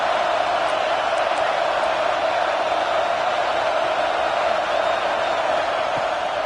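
Continuous crowd roar fills a college football stadium in an NCAA video game, a dense, even wash of voices at steady loudness, with no distinct cheers breaking out and no clear commentary over it.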